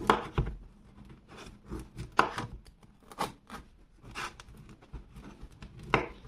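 A Ruike P856-K folding knife saws through fresh, warm crusty bread in repeated crackly strokes, each stroke a crisp crunch with short pauses between, close by and with no talking.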